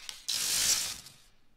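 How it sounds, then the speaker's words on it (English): In the video game Terminator Dawn of Fate, a medipack activates with a sudden bright mechanical whirring hiss that swells, holds for about a second, then fades away smoothly. "that's the sound of the medipack activating"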